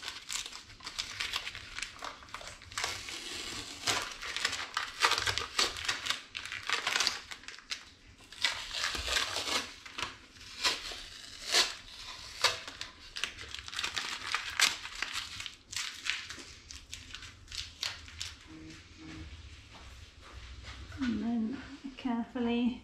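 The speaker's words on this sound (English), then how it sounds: "First of all, remove the masking tape carefully." Masking tape being peeled off a painted stencil of a Yorkshire rose, producing close, continuous crinkling and crackling with irregular bursts of tearing, while a person talks over it.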